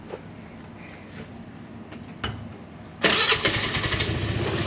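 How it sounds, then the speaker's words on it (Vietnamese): A motor scooter engine, just repaired, cranks with a few quiet attempts, then catches and starts, settling into a loud, steady idle close by. "giờ lổ máy lên xem êm chưa nhé"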